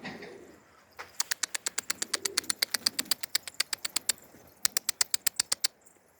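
A pigeon-like bird sounds from the top of a cage of unusual birds, a long run of sharp, evenly spaced repeated calls, fairly close and clear, pausing briefly before resuming.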